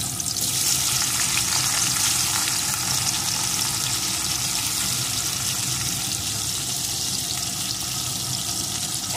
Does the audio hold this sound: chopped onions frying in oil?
yes